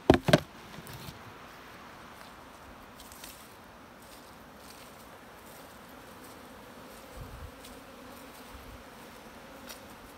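A low, steady insect buzz drones throughout, a dense hum of many honeybees in a hive, with a couple of sharp knocks at the start.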